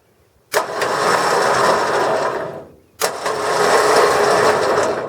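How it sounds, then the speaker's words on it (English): Front winch on an off-road vehicle, run from an in-cab control panel, whirring steadily in two bursts separated by a short pause, loud and close with a mechanical drone. "I hear a winch. In. I hear a winch. She works."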